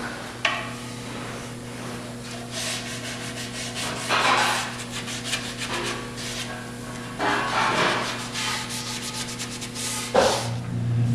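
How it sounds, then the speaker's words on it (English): Hand sanding the edges of mahogany shelves, repeated scratchy rubbing strokes in uneven bursts, close and clear over a faint steady background hum. "I'll be sanding for a while."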